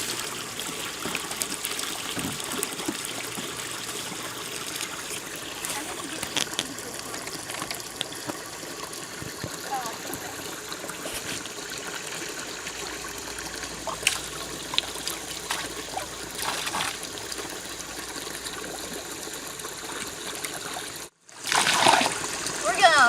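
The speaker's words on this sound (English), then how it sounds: "Dirty water." Dirty water trickling and splashing steadily, with a continuous wet rushing texture throughout and a brief pause near the end.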